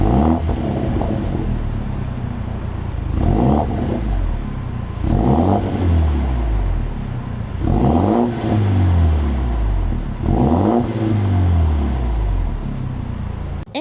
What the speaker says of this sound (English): it has a Miniac exhaust system, and it sounds incredible when you start it.